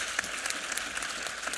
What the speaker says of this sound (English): Can we give Fiona a round of applause,